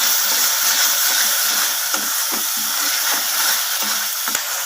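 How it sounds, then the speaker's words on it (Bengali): Masala sautés in hot oil for a rohu fish curry, a loud continuous sizzle broken by a few short scraping and knocking stirs, close up with no talking. "এরপর আমি মশলাটাকে ভালোভাবে কষিয়ে নেব"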